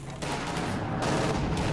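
A video game machine gun, a veteran-level crew defending a victory point, rattles off continuous automatic fire amid the dense din of battle, loud and steady for the whole moment without speech.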